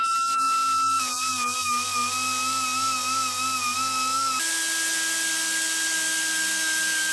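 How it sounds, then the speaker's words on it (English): A handheld belt sander shaves weight off the big end of a connecting rod from a Devil Z engine, a steady high whine with a strong tonal drone that drops in pitch partway through, running continuously and close. "A light touch with a handheld belt sander does the trick."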